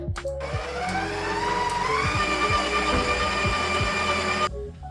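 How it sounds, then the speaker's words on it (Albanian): An electric mixer kneading dough for pastiche, a loud, steady motor whir running continuously with rhythmic thumps as the dough turns, close by, then cutting off abruptly near the end. "Dhe tani e vëmë brumin që të përzihet në mikser për 10 minuta."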